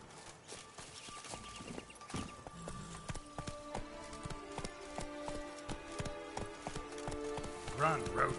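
Roach, the horse in The Witcher 3: Blood and Wine, gallops with rapid rhythmic hoofbeats that run steadily throughout, close and clear over soft background game music.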